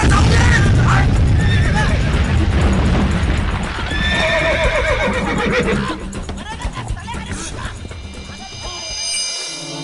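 A horse neighs and whinnies loudly, with clip-clop hooves and agitated voices amid a chaotic rush, in a dramatized scene of mountain road work where blasting charges are about to go off; the commotion fades away toward the end.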